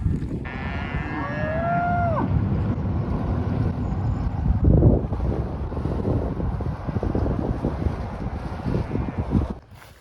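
Cattle moo nearby at a rural spot in Turkey, with one long bellow early on over steady wind buffeting the microphone.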